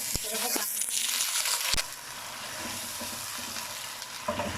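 Sliced onions frying in oil in a pan for aloo pulao, a steady close sizzle with clinks of a stirring spoon against the pan, loud at first and easing slightly, with no talking.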